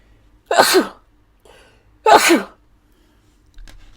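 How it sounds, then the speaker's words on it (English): Two loud, close sneezes about a second and a half apart, with a faint sniff between them and quiet room tone around them. "But I'm about to sneeze."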